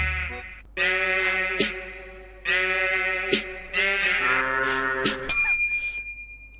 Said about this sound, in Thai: เอาเสียงแกะมาทำใส่พิชชิ่เข้าไปเพื่อให้เสียงมันเล็กลง